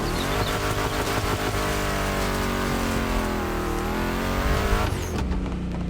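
A street-tier video game car with a Mustang-like engine revs and accelerates, its loud raspy note rising steadily over several seconds before dropping sharply near the end, with faint tire squeal in the mix.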